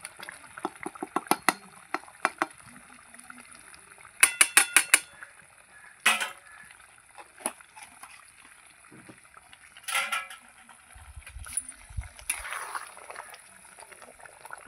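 Metal spoon scraping and clinking in a pan of prawn malai curry with a little ghee, in scattered bursts of clatter between quieter moments, with a faint low bubbling late on.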